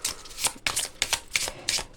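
A Petit Lenormand deck is shuffled by hand for a two-card reading, giving rapid, soft, papery flicks and slaps in quick bursts close to the listener.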